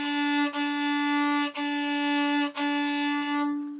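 Bowed string notes on a violin, played with too little bow during a warm-up: a thin, steady tone repeated in four strokes, each separated by a brief dip at the bow change, then fading.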